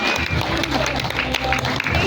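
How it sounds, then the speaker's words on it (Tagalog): Wedding guests give a loud, dense round of applause for the couple, continuous close clapping with crowd murmur and voices mixed in throughout. "isang malakas na palakpak mo kay Jimmy at saka kay Jimmy"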